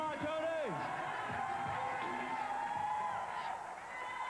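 Crowd at a WPO competition cheering and whooping, a lively mix of shouts and yells rising and falling over a few seconds with voices close by.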